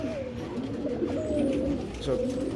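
Pigeons at a pigeon farm coo in low, rolling, repeated calls close by, overlapping continuously at a moderate level with a faint murmur of background activity.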